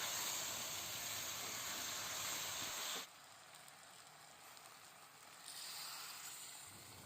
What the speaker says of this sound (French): j'ai ajouté l'eau bouillante, juste ce qu'il me faut pour cuire la soupe